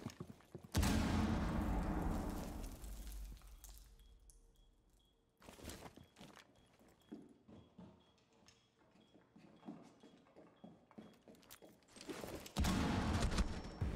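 An impact grenade in the video game Rainbow Six Siege, heard as a sharp, loud burst that decays into rubble, with quieter shuffling and clicks after it and a second loud blast near the end.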